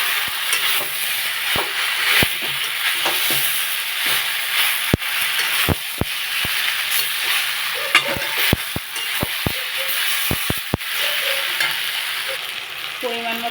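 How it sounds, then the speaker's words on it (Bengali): Jackfruit seeds, ivy gourd and mixed vegetables with shrimp sizzle steadily in a pan after water goes in, while a utensil stirs and clacks at irregular moments against the cookware. "এখন আমি একটু জল দিয়ে দেবো।"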